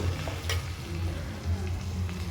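Spices frying in oil with fried brinjal and potato pieces, a steady close sizzle with occasional stirring scrapes and no talk.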